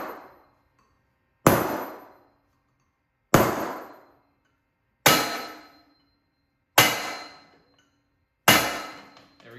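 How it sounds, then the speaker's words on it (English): Five sharp metallic strikes spaced about two seconds apart as a center punch is hammered into metal tubes, each a loud clang that rings briefly and fades before the next. "We have the center punch on all seven of our tubes."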